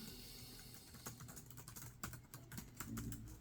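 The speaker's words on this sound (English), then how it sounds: "I think these keyboards are actually quite nice to type on." Typing on the keyboard of a pink HP Stream 11 laptop with WordPad open: a steady run of close, light key clicks with a few louder taps, heard alone without talk.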